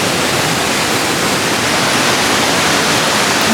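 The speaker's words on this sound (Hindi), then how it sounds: "वो देखिए पानी का फुहारा" A water fountain sprays steadily with a loud, continuous hiss of falling and splashing water that holds unchanged from start to finish, with no voices.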